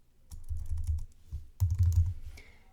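Someone types on a computer keyboard, entering database details in two quick bursts of close, crisp keystrokes separated by a short pause.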